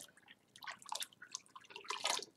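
Paper pulp mixed with botanicals poured into a deckle for handmade paper, heard as quiet, scattered wet drips and splashes that build in bursts, the loudest near the end, with no voices.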